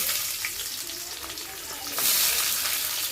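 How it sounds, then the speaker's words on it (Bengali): Onions fry in hot oil with whole cumin, bay leaf and dried red chili, a loud, steady crackling sizzle that grows brighter and busier toward the end. "পেঁয়াজগুলো ভেজে নেব।"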